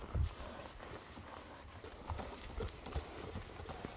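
A horse at a Kyrgyz horse sale, paraded at a run: faint, uneven hoof thuds and clip-clops at a distance over low background noise, with no clear speech.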